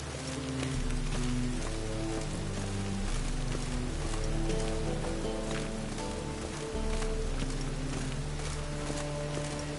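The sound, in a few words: rain in the video game Witcher 3: Wild Hunt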